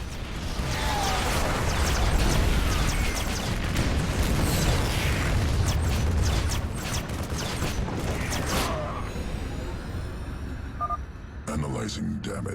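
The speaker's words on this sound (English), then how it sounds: "Fire the damn warhead now!" Experimental warhead fired in StarCraft 2 Heart of the Swarm: a dense, loud roaring burst of blast and crackling noise sustained for several seconds, mixed with voices and game effects, fading into fizzing tones near the end.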